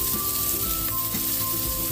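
Garlic and onion sizzle in a frying pan as a continuous, fairly loud hiss with occasional crackles, close up and without talk.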